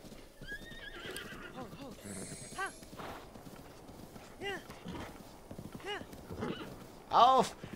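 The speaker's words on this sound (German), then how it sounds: "Also, guckt mal, so viele Wildpferde." Horses whinny several times over steady hoofbeats in The Legend of Zelda: Breath of the Wild, with a loud neigh near the end; a voice talks throughout.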